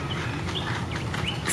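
Small bird at the LA Zoo chirping, a few short high tweets scattered over a busy outdoor background, fairly faint and without talk.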